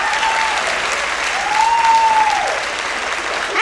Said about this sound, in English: Applaud real big.